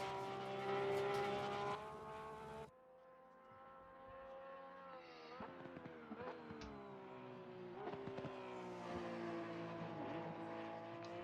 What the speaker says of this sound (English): I do like the NSX for its sound